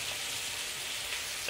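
Curd being stirred into a hot tempering in a pan for perugu charu, a soft, steady sizzle with faint stirring, brief and quiet, no voices.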